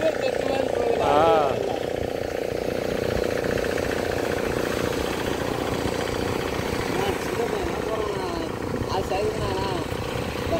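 An outboard-style motor drives a small fishing boat carrying three people out to sea, a steady loud drone throughout with voices speaking over it.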